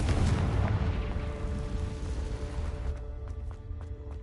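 A Confringo spell detonates in Hogwarts Legacy with a loud, rumbling blast close by that rolls and fades over a few seconds, leaving scattered faint clicks and pops.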